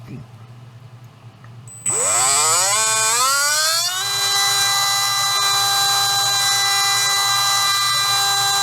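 A Trinity 17.5T slot car motor spins up from idle with a rising whine, then holds a loud, steady high-pitched tone over a low background hum.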